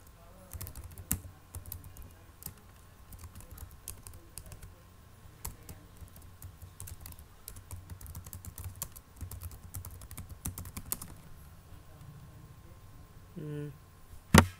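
Login details are typed on a computer keyboard, a steady stream of quick, fairly quiet key clicks lasting many seconds, with a sharper tap near the end.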